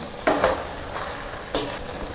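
Carrot halwa is stirred in a pan just after a spoonful of ghee goes in, with a soft sizzle and three or four scraping spoon strokes up close.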